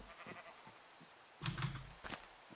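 Sheep bleat in the Minecraft video game at an animal pen in a village, a few short bleats with one louder, longer bleat in the middle, clear and near.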